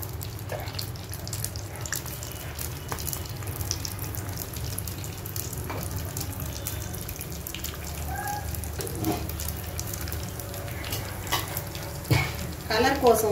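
Urad dal, chana dal, mustard seeds, cumin and asafoetida crackle and sizzle softly in hot oil for a cucumber pickle, a faint steady frying with occasional stirring and clinks, low and close.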